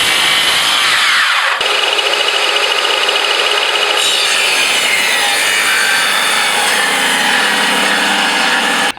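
A strip is ripped off a 25 mm flat wooden board with a power saw, heard as a loud, continuous close-up cutting whine and rasp whose pitch shifts as the blade bites, with a brief change near the start.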